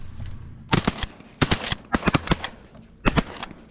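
Shotguns fired at pigeons on a hunt: loud, close blasts in quick clusters from several guns, three bursts separated by brief pauses.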